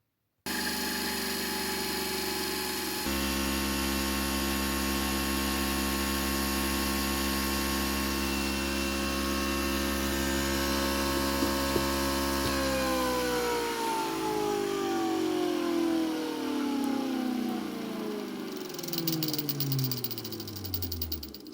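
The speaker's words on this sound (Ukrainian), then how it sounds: "У нас ще є два магнітних барабани, які також зараз подивимося, як вони працюють, яка частота." Spinning magnetic generator drums run through a frequency test, giving a steady mechanical hum with strong tonal harmonics that jumps up early, holds steady, then winds down in falling pitch as the drum slows, with no talking.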